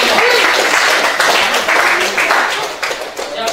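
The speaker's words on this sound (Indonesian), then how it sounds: "Tepuk tangan untuk kita semua." Classroom group clapping after a teaching session, a brief dense burst of applause that stays loud for a few seconds, then thins out.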